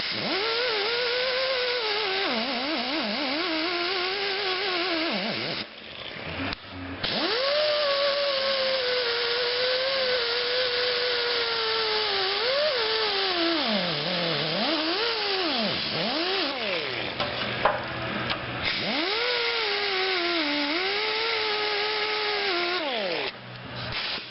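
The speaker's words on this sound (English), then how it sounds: "work it back and forth in a similar motion that I used before, and try to clean out the majority of where the weld dot was" Disc grinder grinding out plug welds and blending the metal, a loud continuous whine that rises and sags in pitch as the disc is worked back and forth, with a few brief dips, lasting over twenty seconds.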